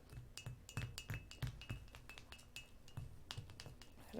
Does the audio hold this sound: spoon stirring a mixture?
yes